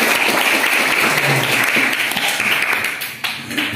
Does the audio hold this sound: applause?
yes